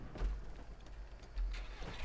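Low car engine rumble from a vehicle in Just Cause 2, with two brief swells of revving about a second apart, fairly quiet and without talk.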